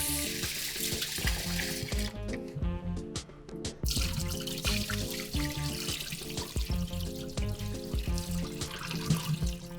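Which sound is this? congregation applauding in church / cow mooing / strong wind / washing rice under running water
washing rice under running water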